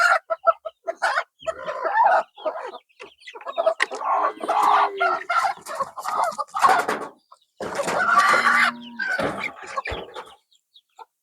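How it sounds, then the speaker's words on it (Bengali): Desi chickens on a cattle and goat farm cluck and squawk in repeated, irregular bursts, close and fairly loud, with brief pauses between calls. "এটা মুরগি।"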